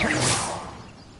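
An Incendio fire spell cast in Hogwarts Legacy lets out a short rushing whoosh that bursts loudly and then fades over about a second.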